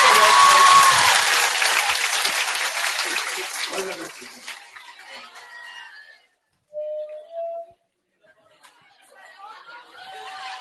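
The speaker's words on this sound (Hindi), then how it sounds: "जोरदार तालियां।" Loud applause from students in a classroom, strong at first and then fading out over several seconds, followed by quiet gaps and scattered faint sounds.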